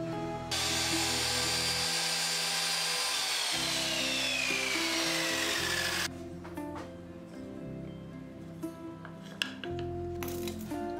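An angle grinder cuts pieces of plywood with a loud, sustained high-pitched whine whose pitch slides down under load, then spins down and gives way to scattered clicks and knocks, with a brief second burst of cutting at the end.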